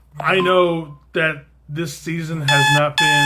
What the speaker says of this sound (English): and that is my alarm clock.